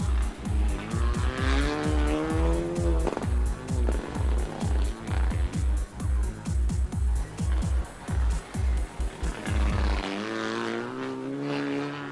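A rally car, a modest machine running among R5s, slides on a wet special stage at Champéry in the Rallye du Chablais 2022. The engine revs hard and rises and falls rhythmically through gear changes before dropping to a lower tone at the end.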